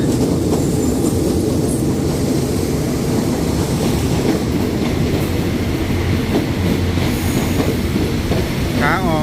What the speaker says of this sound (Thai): มาแล้วขบวน 283 GEK 4005สีใหม่เอี่ยมเลย